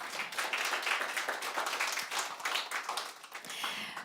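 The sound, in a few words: audience applause at a conference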